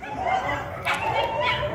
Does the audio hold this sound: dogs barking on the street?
yes